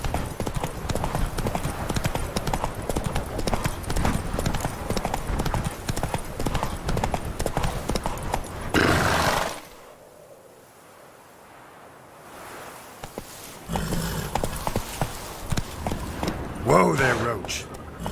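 Roach, a horse in The Witcher 3 video game, clip-clops in a quick, steady rhythm over surf and wind, pauses into near-quiet for a few seconds, then resumes with a neigh-like sound; a voice speaks over it.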